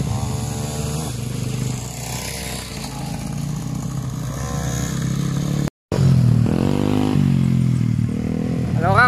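A 150 and a 125 dirt bike riding motocross, engines buzzing and revving from close range in rising and falling passes, with a voice talking over them.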